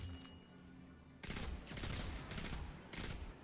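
Several loud, close gunshots in the video game Destiny ring out in a spaced rhythm with short pauses between them, following a quieter lead-in.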